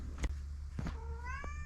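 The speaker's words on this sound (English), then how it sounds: "That's Smitzers, my cat. He's just whinging, I think, because he wants to go outside" A pet cat meows insistently, wanting to be let outside, giving a couple of short sounds and then a longer rising, drawn-out meow close by in a quiet room.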